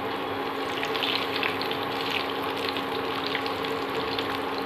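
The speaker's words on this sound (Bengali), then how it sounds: "এই যে আমি লাল লাল করে এবার ভেজে নেব, যেমন পান্তুয়া করে ভাজা মিষ্টি," Sweet potato sweets deep-frying in hot oil make a continuous bubbling sizzle up close, steady and fairly loud with no talking.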